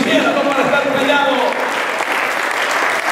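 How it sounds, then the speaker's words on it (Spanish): Loud, dense applause from a church congregation during a sermon, continuous and close, filling the whole stretch without letting up. "para darle un aplauso a Él"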